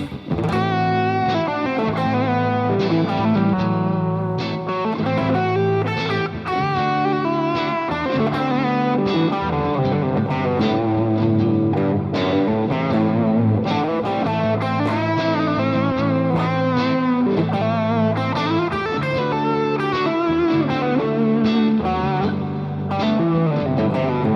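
Distorted electric guitar plays a continuous run of Dorian scale notes over a looped backing, steady and prominent with no talking.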